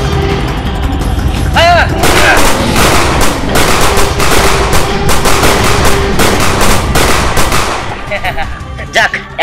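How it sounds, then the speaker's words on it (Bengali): Guns fire together in a fairy-tale drama battle against a dragon, loud dense bursts of rapid shots and booms running almost continuously, with shouted voices mixed in near the start and end. "আমি যখন বলবো সবাই মিলে একসাথে ফায়ার চালাতে হবে"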